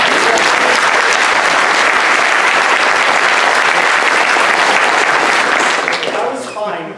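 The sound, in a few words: thunderous round of audience applause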